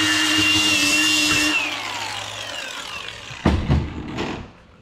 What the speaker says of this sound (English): Then grind the front down so it looks like it was never there.